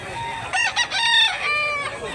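A white rooster with yellow-green legs, about a year old, crows once nearby at a rural fowl sale in Barili, Cebu, a loud harmonic call that rises and then trails off.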